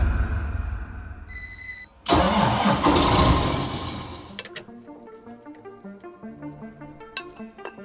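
A car engine catching after a short starter crank, then a loud roar settling into a steady idle as it warms up before an oil change, close and alone.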